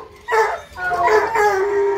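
A young hunting dog, trained on wild boar, howls in long drawn-out wails that rise and hold, close and loud, with brief breaks between cries.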